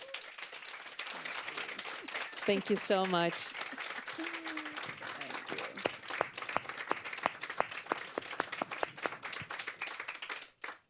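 A live audience applauding at a talk event, steady scattered clapping building and sustaining for several seconds, with a voice speaking briefly over the start.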